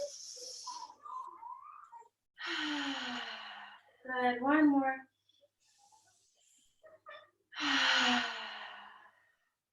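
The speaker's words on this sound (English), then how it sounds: "take 3 little sniffs, and a big breath out" During a guided breathing exercise, a voice speaks briefly, then come a long audible breath out, quick nasal sniffs, and another long exhale, all close and soft.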